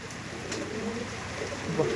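Andhra pigeons coo softly at close range in a quiet indoor setting, with low murmuring calls and faint background noise.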